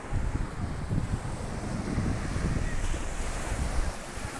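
Ocean surf breaking on a beach with steady wind rumble, a continuous wash of waves close by and fairly loud throughout, with no voices.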